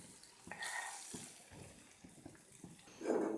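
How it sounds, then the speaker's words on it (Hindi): Milk poured into a pan while making chicken mac and cheese, a soft liquid splash and pour with light clinks and stirring, close and fairly quiet, swelling louder near the end. "पैन के अंदर मैं दूध डाल रही हूँ।"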